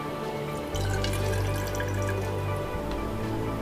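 Kombucha starter liquid is poured into a jar, giving a steady close-up splashing trickle that runs continuously for a few seconds.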